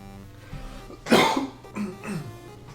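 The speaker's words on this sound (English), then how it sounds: "Gotta get all our coughs and sneezes out." A single close, harsh cough followed by a couple of lighter throat-clearing coughs from someone in a live-streamed chat, set against a low background hum.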